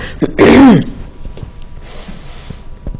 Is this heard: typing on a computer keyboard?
no